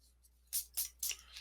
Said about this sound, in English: So you can erase all the other lines